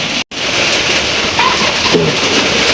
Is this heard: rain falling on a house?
yes